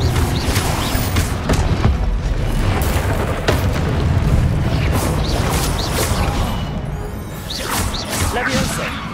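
In Hogwarts Legacy on PC, the Confringo spell sets off booming blasts amid rushing whooshes and crashing combat noise, dense and loud throughout, with voices over the top.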